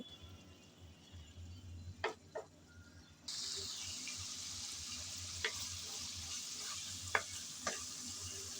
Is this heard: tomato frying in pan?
yes